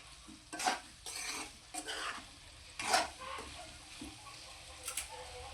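A spoon stirs raw banana curry seasoned with chilli powder and green chillies in a pan, giving several quick scraping strokes over a soft sizzle, close and fairly quiet, with no voices.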